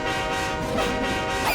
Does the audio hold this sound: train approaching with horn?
yes